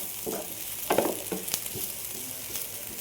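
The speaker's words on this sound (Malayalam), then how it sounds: "പൊടികളുടെ പച്ച മണം മാറുന്നത് വരെ ഇളക്കി കൊടുത്തിട്ടുണ്ട്." Spice powders stirred into softened onions in a hot pan, a steady close sizzle and fry broken by a few scraping stirs of the spoon, with no talking.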